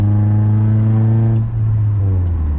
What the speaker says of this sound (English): H22 is sounding like it's getting adjusted to the new exhaust.